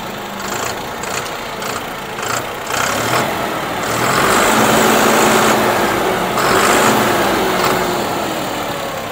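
A John Deere 5405 CRDI 63 hp 4WD tractor's diesel engine runs steadily and close by, its loud rumble swelling slightly midway before settling, with no voices.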